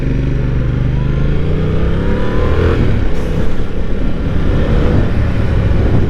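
Yamaha MT-07 motorcycle pulling away from a traffic light, its engine note rising steadily and staying loud and close throughout with continuous road noise, no talk over it.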